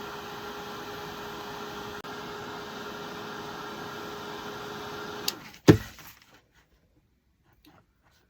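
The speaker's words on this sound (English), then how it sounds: "hit it with the heat gun before it has time to start pulling up" Heat gun blowing steadily onto candle wax in a thrifted vintage candle, a constant whirring hum with a fan tone, running alone for about five seconds before clicking off with a brief clatter, then quiet.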